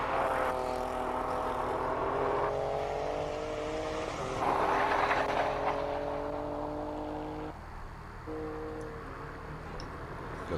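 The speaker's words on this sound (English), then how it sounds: "Got the Toyota Supra, I think, is just come across the line already." A Toyota Supra race car at the Simola Hillclimb crossing the finish line, its loud engine droning with shifting tones as it approaches and passes nearby, then easing slightly as it carries on.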